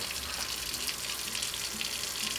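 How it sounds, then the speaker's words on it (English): Cold tap water runs steadily over homemade butter being rinsed, a constant full splashing gush throughout with no pauses or voices. "She's just rinsing it under really, really cold water."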